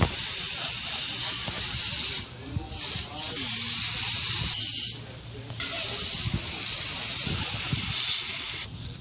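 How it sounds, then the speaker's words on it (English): Running water rinses dirt off wooden sticks, a loud hissing spray in long bursts, cut off briefly between them, with faint handling sounds in the gaps. "you're gonna want to start rinsing all the dirt off of the sticks"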